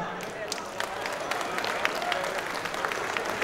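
Audience applause at a fifteenth-anniversary opening ceremony of a Chinatown cultural and sports association in Kuala Lumpur, a steady crowd clapping with dense overlapping claps over a background of murmured voices.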